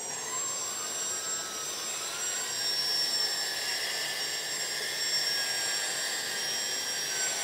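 A LESU 1/14 scale hydraulic RC 9150 excavator swings its upper body at about half speed, giving a steady, fairly quiet high-pitched motor and pump whine with a gradual pitch rise, heard alone.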